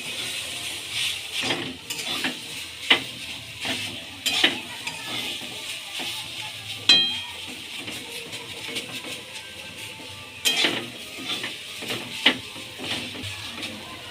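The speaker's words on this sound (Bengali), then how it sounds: "আমি জিরা আর শুকনো লঙ্কা দিয়ে ভেজেছি" Khesari greens fry with cumin and dried chilli, a steady soft sizzle under repeated scrapes and knocks of a spatula stirring against the pan.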